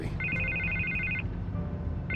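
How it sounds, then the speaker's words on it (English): A telephone rings in a Batman Telltale Series video game scene, a near electronic ring in two bursts with a pause between them, over low background ambience. "I can't get the phone to stop ringing."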